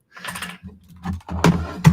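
A computer keyboard is shifted aside on a desk, giving a series of short, close clattering knocks and scrapes with brief pauses between them.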